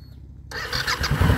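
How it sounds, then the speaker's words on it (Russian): After a brief quiet moment, a Suzuki DL1000 V-Strom motorcycle engine abruptly cranks in cold weather and catches, rising into a loud, rough idle close by. "поэтому запускаем сначала мотоцикл"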